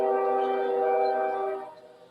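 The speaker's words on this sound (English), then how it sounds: "if you can probably hear the train coming now" A train horn blares steadily, loud and sustained with a layered tone, then tapers off as the train moves past, heard indoors during a casual livestream.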